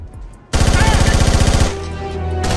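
Friendly fire in Socom 3: a loud automatic burst of rapid evenly spaced shots lasts about a second, followed by a lingering echoing rumble.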